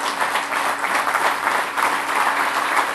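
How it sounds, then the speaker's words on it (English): Audience applause at a speaking event, dense and continuous at close range, steady throughout with no talk over it. "Everybody, a round of applause for Joe."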